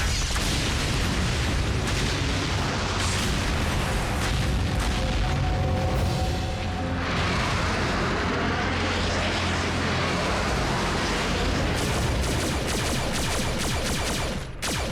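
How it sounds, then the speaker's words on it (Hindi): A gas station blows up in a Transformers cartoon, heard as a long, loud, roaring explosion with rumbling booms and crackling debris that stays dense throughout and never drops to quiet. "उस जगह को उसके बॉम्ब ने नहीं, तुमने उड़ाया।"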